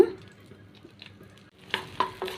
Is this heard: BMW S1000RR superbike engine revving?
no